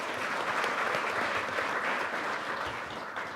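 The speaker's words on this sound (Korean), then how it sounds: "다시 한번 박수 부탁드리겠습니다" Sustained applause from the audience at a parliamentary policy debate on firefighter national-service conversion, continuous broadband clapping from a seated crowd, steady and moderately loud with no break.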